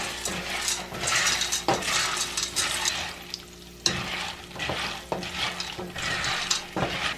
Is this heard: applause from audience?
no